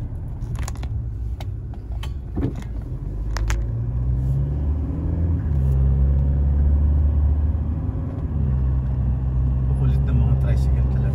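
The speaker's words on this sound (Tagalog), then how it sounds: "Tricycle talaga." A motorized tricycle engine passes along a street, a low rumbling drone that swells and stays steady at close range, with people talking over it.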